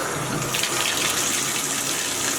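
Water pours steadily from a tap into a tub to bathe a dog, a close, continuous broadband gush with no pauses.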